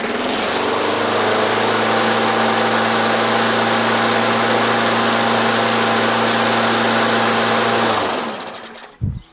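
An MTD Yard Machines push lawn mower with a bent crankshaft runs at a steady, loud, close engine drone for about eight seconds before cutting off, with a brief clunk afterward.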